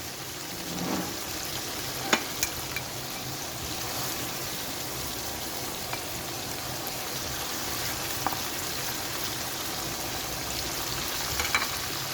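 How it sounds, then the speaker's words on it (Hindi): Fried chicken pieces lifted out of a pan of sizzling masala for a Kashmiri chicken curry, with a steady close frying hiss throughout and a few sharp clinks and scrapes of a utensil. "अब हम ये चिकन को बोटियों में यानी कि निकाल देंगे और मसाला जो है नीचे छोड़ देंगे।"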